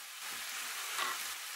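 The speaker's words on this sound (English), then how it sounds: "Allow that to fry just for a little longer." Minced beef and onion fry in a pan, a soft continuous sizzle with faint stirring, heard alone and fairly quiet.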